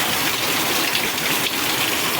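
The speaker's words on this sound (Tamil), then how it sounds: "இங்கே பாருங்க எவ்வளோ மழை பெய்யுது இங்கே." Heavy rain pours steadily in Chennai, a dense, loud, unbroken hiss of water hitting surfaces that fills the whole moment with no voices.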